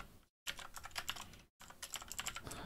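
Rapid clicking of keys being typed on a computer keyboard during a C++ web server coding session, in bursts with two short silent breaks, close and fairly loud.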